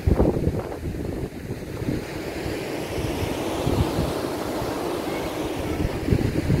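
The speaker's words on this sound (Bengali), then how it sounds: "ভালো হাওয়া চলছে এখানটা, খুব সুন্দর লাগছে।" Strong seaside wind buffets the microphone in loud, gusty rumbles, with a continuous wash like surf behind it and no voices.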